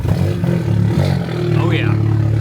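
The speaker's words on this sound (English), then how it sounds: "join me for hopefully the very last obnoxious cold start" A Volkswagen Golf Mk7 GTI fires up from cold with its resonator removed, a loud, rough low rumble with a brief starter whir and a high whine rising over the engine, no voices.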